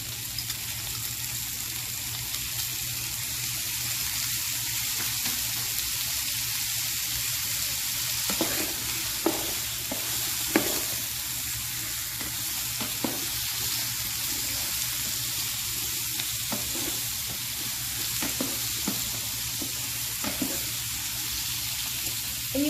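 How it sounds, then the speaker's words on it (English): Minced garlic frying over low heat in a pan for pork tenderloin, a steady soft sizzle running throughout with occasional light clicks of stirring, close and continuous with no talk. "you want to cook this on a low heat because garlic tends to burn rather quickly"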